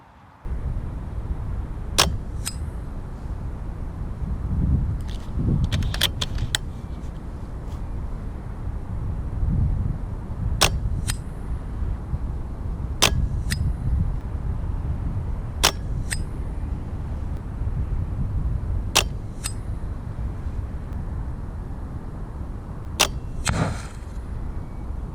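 Several sharp air rifle shots from a Reximex Ixia .22 strike Firebird reactive targets, each a crisp isolated crack spaced a few seconds apart over steady outdoor wind noise.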